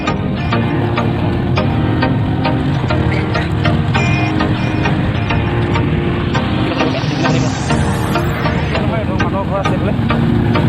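A motorcycle carrying three riders on the way to a rubber farm, its engine droning steadily and loudly under wind rush while people talk over it.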